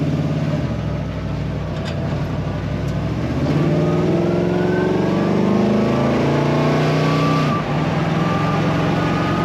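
A 1934 Plymouth Coupe street rod drives along the road, its engine droning steadily and rising in pitch as it accelerates, loud and close with a continuous rumble throughout.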